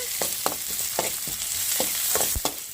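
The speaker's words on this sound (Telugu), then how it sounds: "ఆనియన్స్ అయితే ఫ్రై అయినాయి" Onions fry in a pan, giving a continuous sizzle punctuated by several sharp stirring scrapes and taps, heard up close with no voices.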